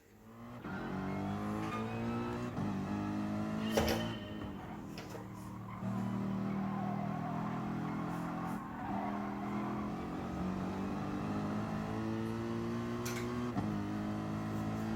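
A Mercedes engine revs and races in a driving video game played with a pedal set, its steady drone rising and dropping through gear changes, with a few sharp knocks.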